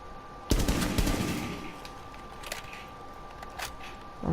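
A rapid burst of gunfire from the tactical shooter Rainbow Six Siege is loud and close, with its echo decaying afterward. A few softer single shots follow against a faint steady tone.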